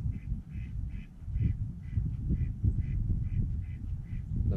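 Ducks quack in a steady series of short, regular calls, about two per second, over a low rustling background.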